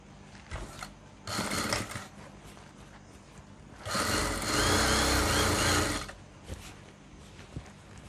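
A sewing machine stitches a sofa cover in two short runs: a brief burst of whirring, a pause, then a longer steady stretch of stitching before it stops again.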